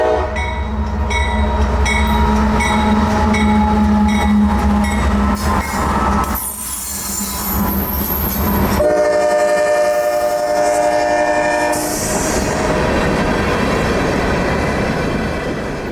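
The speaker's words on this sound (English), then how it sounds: "This would be a train of empty wet rock hoppers returning from Mosaic East Tampa southbound" A loud CSX freight train of empty wet rock hopper cars rolls past up close, horn blaring, then wheels rattle and screech as the cars clatter by continuously.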